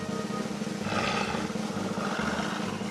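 A deep, rumbling beast roar rises and swells for a few seconds as a storybook wolf sound effect, loud and close with a harsh, growling texture.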